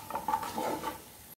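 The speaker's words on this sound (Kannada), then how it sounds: "ಚೆನ್ನಾಗಿ ಫ್ರೈ ಮಾಡಿ ಒಂದು ಎರಡು ನಿಮಿಷ ಇದನ್ನ ಇದರಲ್ಲಿ ಬೇಯಿಸಿ" An egg fries in an oiled pan with a short burst of sizzling and scraping stirring sounds, close and moderately quiet, ending abruptly.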